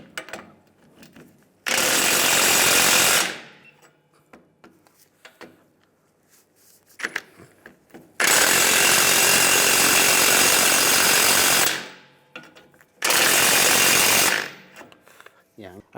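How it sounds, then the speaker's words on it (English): Impact wrench with a 21mm socket spinning off U-bolt nuts on a 2007-2013 Chevrolet Silverado 1500 leaf spring, three loud rattling bursts of a few seconds each, separated by quieter gaps with faint clinks and movement. "Using a 21mm socket, we're going to take all the U-bolt nuts off"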